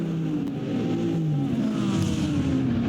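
Several race car engines roar and pass close by in a sim racing game, a Corvette among them being overtaken on the inside, with steady loud revving and overlapping engine tones throughout.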